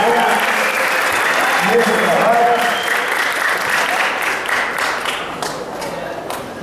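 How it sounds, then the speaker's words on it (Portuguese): Sustained applause from an audience at a community charity event in São Lourenço do Sul, thick clapping that fades slightly toward the end while someone speaks over it. "Eu quero um aplauso para essa pessoa que está aqui"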